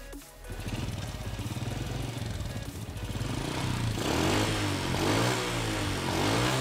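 Used Honda Prima motorcycle with its original engine, running at a steady close, loud chugging idle, then revving higher and rougher midway, with no speech over it.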